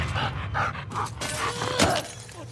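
A dog in the video game The Last of Us Part 2 lets out several short, close barks and yelps over busy game audio, with a sharp crashing burst near the end.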